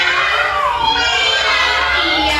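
A group of children together imitate a cat's meow in one long, drawn-out wavering cry, loud and steady, voices layered like a chorus in a classroom.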